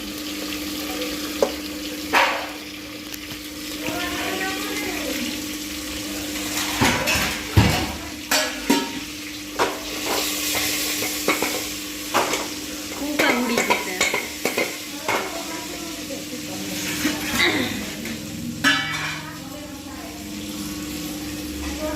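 Drumstick pods (saragvo) frying in a pan in a home kitchen, with intermittent scraping stirs and utensil clinks over a steady low sizzle, while people talk nearby.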